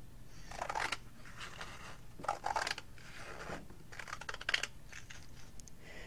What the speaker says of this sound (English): we are going to cut along this seam